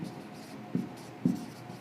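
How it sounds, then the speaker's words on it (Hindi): Chalk or marker on a board during a physics lecture gives faint scratchy strokes, with two short taps or strokes standing out briefly against a quiet room background. "यहाँ लिखते हैं"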